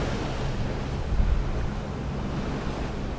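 Ocean swell around a yacht at sea in calm wind, a soft continuous wash of water with a low rumbling bed and a slight surge midway.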